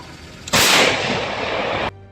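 One loud, close artillery blast erupts and roars steadily for over a second before cutting off sharply.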